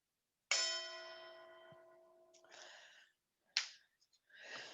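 A meditation bell is struck once and rings with a clear tone that fades slowly over about two seconds, followed by soft, faint rustles in an otherwise quiet room.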